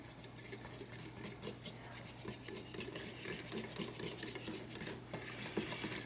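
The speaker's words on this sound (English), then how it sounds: "just whisk this mixture together" A whisk scrapes quickly and continuously through chocolate soufflé mixture in a bowl, a faint, steady rasping swish with small clicks against the sides.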